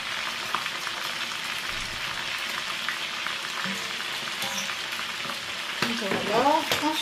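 Masala chicken frying in a pan under a steady loud sizzle, with a utensil scraping and stirring near the end and a little background talk.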